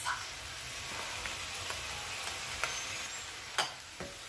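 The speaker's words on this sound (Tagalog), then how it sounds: "nagisa na natin yung ating sibuyas, bawang at kamatis" Onion, garlic and tomato sauté in a pan with a steady close sizzle, broken by a few sharp clicks and scrapes of stirring toward the end, no talking.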